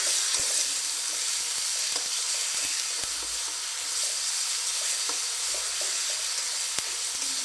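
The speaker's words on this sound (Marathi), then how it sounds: "कांद्याची पेस्ट टाकल्यानंतर याला चांगलं परतून घ्या" Onion paste sizzles and sautés in a pan for chole bhature, giving a bright, continuous hiss close to the mic. Faint scraping taps from stirring recur throughout, with no voices.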